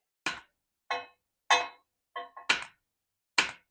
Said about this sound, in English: You need a hammer to put the chain on.